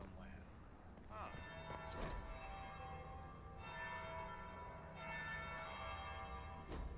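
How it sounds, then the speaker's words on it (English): A church bell tolls in a video game, the strikes ringing out a few times at moderate level over a steady ambient background and sparse voices. "That would be the second bell."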